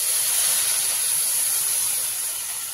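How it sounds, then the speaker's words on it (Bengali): Water poured into a pan of sautéed cauliflower sets off a loud, steady sizzling hiss of steam that holds for the whole moment and fades slightly at the end. "আর এবার জল দিয়ে দেব"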